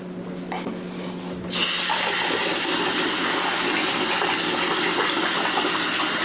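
Water suddenly starts gushing from a tap and runs steadily, splashing loudly into a bowl or sink of rice being rinsed, with a continuous hiss.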